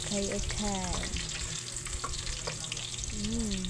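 Onion frying in a pan after garlic, a continuous close sizzle with stirring scrapes; brief tonal sounds rise above the frying near the start and end.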